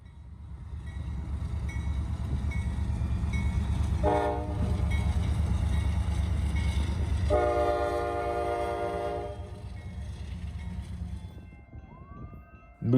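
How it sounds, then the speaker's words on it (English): A slow grain train led by NS 4004 locomotive rumbles past, with two loud horn blasts: a brief one and then a longer sustained one. The rumble fades toward the end. "NS 4004 was leading a grain train, and he was going very slow"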